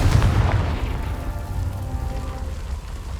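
A Confringo fire spell blast in the Hogwarts Legacy video game, a loud deep booming burst at the start that rumbles and crackles before trailing off.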